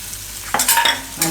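Salted tomatoes cook in a pan for appam, a low sizzle swelling into two or three brief close scraping stirs of a spoon against the pan.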